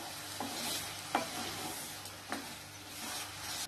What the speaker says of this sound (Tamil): இது அப்படியே சிம்ல வச்சு வதங்கிட்டு இருக்கட்டும்